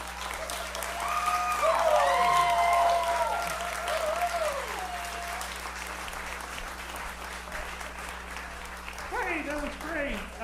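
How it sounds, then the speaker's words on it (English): Audience applause at a puppet cabaret at Links Hall in Chicago, sustained clapping from a modest crowd with whoops and cheering voices rising over it, swelling early and then easing off. "Let's keep those applause going, everybody"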